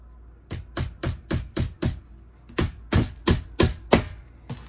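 Hammer blows while assembling a Target shelf bookcase into a shoe rack, about a dozen sharp, steady strikes in two quick bursts with a short pause between them.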